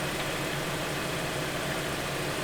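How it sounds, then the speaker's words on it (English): A new 2021 Hyundai Tucson idles as a steady, even engine hum. The rumble stays low and constant, with no revving and no voices, and holds at a moderate level throughout. "That's the engine sound."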